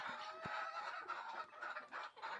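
Desi hens on a poultry farm cluck and murmur in a steady, overlapping chorus, fairly faint and close, with one brief sharp knock early on and no voices.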